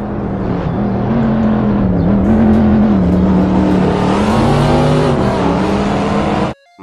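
A race car engine roars loudly and up close, its pitch wavering up and down for about six seconds before it cuts off abruptly.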